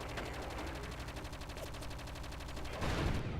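Rapid automatic gunfire in the Project Eden video game, a dense continuous rattle of shots that runs the whole time and grows slightly heavier near the end.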